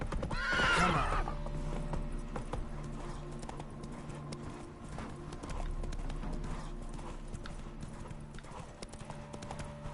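A horse in The Witcher 3: Wild Hunt whinnies loudly at the start, then its hooves clip-clop at a steady galloping rhythm, close and continuous, with a rider's voice briefly heard.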